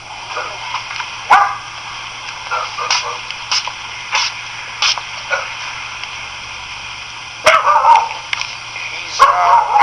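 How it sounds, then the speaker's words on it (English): A small schnauzer barks and yips in scattered bursts, some in quick clusters, over a steady background hum and faint noise. "He's a noisy schnauzer."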